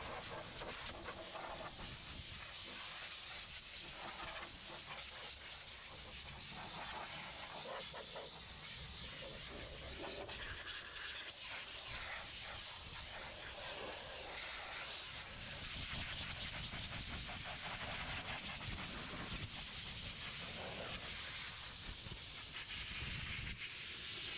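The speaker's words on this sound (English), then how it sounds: "I immediately grab the air chuck, forced air, and dry the compartment." Steady broadband hiss of compressed air blasting from an air chuck to dry a car's rinsed engine compartment, continuous and unbroken throughout.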